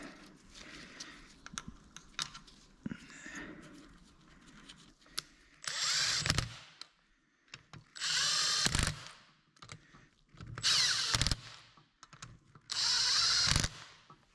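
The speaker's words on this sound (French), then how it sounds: "ma méthode de desserrage et de serrage des bougies" A power tool runs in four loud bursts, each lasting about a second, while loosening and tightening spark plugs on a 1.9 DTI engine. Quieter clicks and rustling handling noises come between the bursts.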